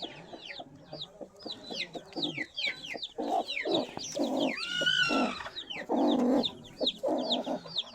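A hen clucks among newly hatched chicks, the chicks' shrill peeping layered over repeated low clucks, close and fairly loud throughout.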